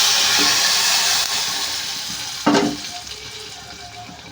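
Broadband hiss of hot tempering sizzling, with a sharp burst partway through as it hits mango dal, then fading crackle.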